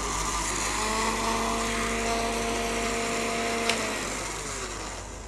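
An electric kitchen grinder running steadily as it grinds hard, coarsely pounded turmeric into powder, a loud, continuous whining motor drone that dips slightly near the end, with no talk.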